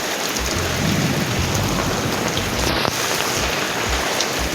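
Heavy rain pouring down outdoors in a steady dense roar, with a low rumble underneath and a brief sharp knock near the end.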